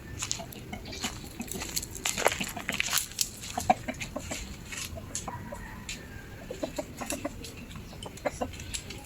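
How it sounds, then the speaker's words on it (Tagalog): A mother hen, with month-old Rhode Island cross native chicks, clucking repeatedly in short, soft bursts nearby, with outdoor rustling and pecking sounds throughout. "ayun na yung inahin, no?"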